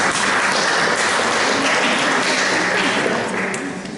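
Audience applause during a twin-town meeting in Auxerre, a loud continuous roar of many clapping hands that holds steady and starts to taper off near the end.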